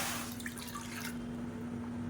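Water poured from a measuring cup into a kadai, a brief splashing pour that fades after about a second, leaving a steady low hum.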